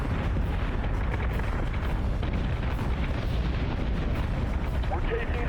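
Spaceship guns in the video game Battlestar Galactica: Deadlock fire in a continuous dense barrage of rapid booming shots, loud and unbroken throughout.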